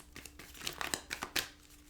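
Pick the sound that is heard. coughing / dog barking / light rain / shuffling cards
shuffling cards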